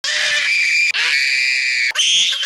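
Shrill, high-pitched screaming from the movie character Fred, in three long sustained bursts separated by brief breaks, loud and close.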